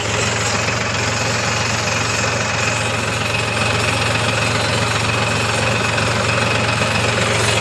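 Engine of a MOBA GPS land leveler runs continuously nearby on a farm field, a loud, steady low drone with rattling vibration and no speech.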